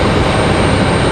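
A Breeze Airways airliner touches down at RDU airport in stormy weather, a steady loud broadband roar of engine and rushing air, dense and continuous with no voices.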